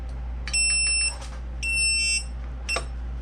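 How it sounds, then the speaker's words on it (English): A timer alarm beeps in a kitchen during pressure-based processing, with two bursts of high, clear electronic beeps followed by a shorter third, over a steady low hum. "That beeping is the alarm."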